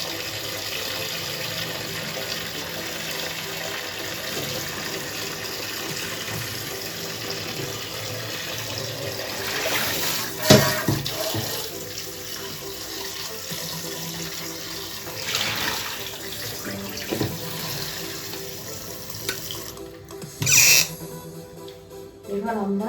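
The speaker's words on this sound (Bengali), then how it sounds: "এবার উচ্ছেটাকে জল দিয়ে ঠান্ডা করতে হবে।" Kitchen tap water runs steadily over boiled bitter gourds to cool them, a continuous hiss of flow with a few louder splashes and clatters partway through.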